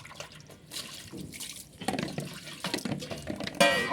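Water runs steadily from a tap into a sink while a fish bag is washed, with a continuous splashing flow, close and moderately loud, growing stronger near the end.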